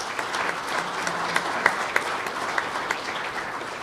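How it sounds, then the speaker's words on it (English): At an annual meeting and tradeshow, a crowd gives a quick round of applause for gold level sponsors: a steady, even wash of many hands clapping, with a few sharper claps standing out. "Let's give them a quick round of applause."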